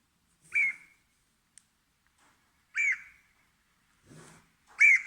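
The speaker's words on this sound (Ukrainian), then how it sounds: "Такий голос у дятла." A woodpecker's sharp, high single calls ring out one at a time with pauses between them, clear and fairly close against silence.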